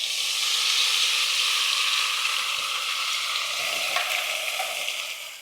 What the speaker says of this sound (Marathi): तेल थोडं तापलं की आपल्याला ह्यामध्ये ना तयार केलेलं हे वाटण टाकायचंय